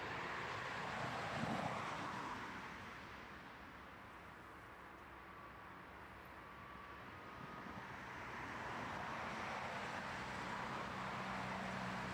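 A Jet2 passenger jet at East Midlands Airport at night, its engine roar swelling and fading as a distant, fairly faint rumble, with no voices.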